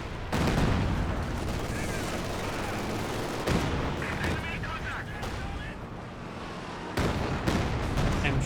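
Dense battlefield din from Company of Heroes 2 with a German MG42 machine gun firing in sustained bursts, amid continuous gunfire, explosions and artillery that stay loud throughout, while a commentator talks over it.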